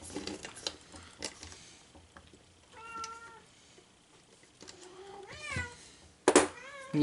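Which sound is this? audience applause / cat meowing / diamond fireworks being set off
cat meowing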